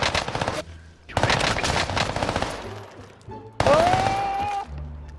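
Rapid bursts of automatic gunfire from Call of Duty: Warzone rattle in close, loud clusters separated by short pauses, with a rising electronic tone near the end.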